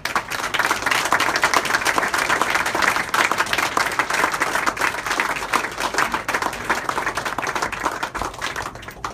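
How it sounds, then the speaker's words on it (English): Sustained audience applause at a sports leadership awards ceremony as winners are called up, a dense, steady wash of many hands clapping throughout, loud and continuous with no clear speech over it. "So a round of applause for all of them."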